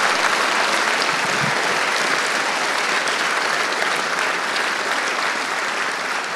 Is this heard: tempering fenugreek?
no